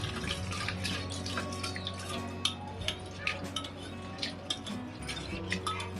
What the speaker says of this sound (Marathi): आता आपण तीन वेळा पाण्याने स्वच्छ धुवून घेऊ